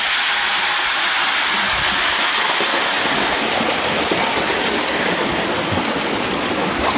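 Water gushes steadily into a pool being filled for washing fermented, depulped coffee beans on a Colombian farm, a dense continuous broadband rush close by with no pauses.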